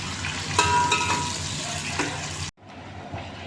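Chicken sizzles in hot oil in a pan while cooking Sindhi biryani, a steady crackling fry with stirring scrapes, close and continuous, then quieter after a sudden cut.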